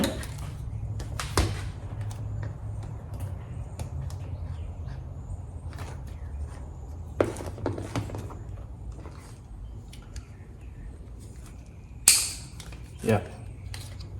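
A plastic fuel line quick-connector unsnaps on the tank of a 2008 Harley-Davidson CVO Softail, giving sharp clicks and a snap near the end over low steady background hum.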